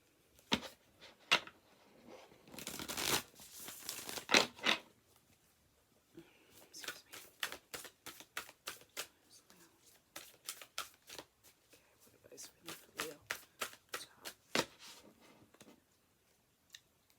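Oracle cards shuffled for a tarot reading, a run of quick riffling flutters and sharp papery taps, with dense bursts early on and a steady series of crisp slaps later, close and fairly soft.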